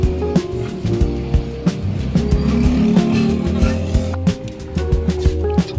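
Steady traffic rumble beside a highway, close and fairly loud, with passing vehicles and intermittent knocks over a continuous low drone.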